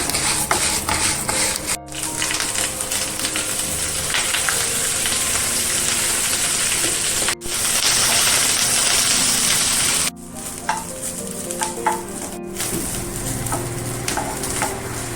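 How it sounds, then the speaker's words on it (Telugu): Drumstick leaves and other chutney ingredients dry-roasting in a pan, with continuous close scraping and rustling of stirring and a light crackle, broken by a few brief pauses. "ఇది దోరగా వేయించుకోవాలి చక్కగా మాడకూడదు"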